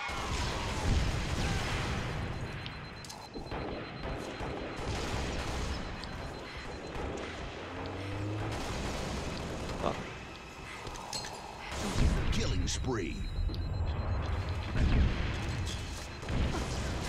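Gunfire and explosions in a Halo video game match, bursts of shots and booms scattered through a busy mix with someone talking over them.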